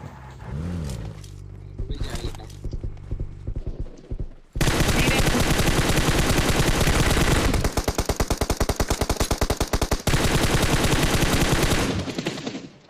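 Rapid bursts of automatic gunfire from the mobile game PUBG Mobile, loud and sustained with rhythmic repeated shots, after a quieter stretch of game sounds at the start.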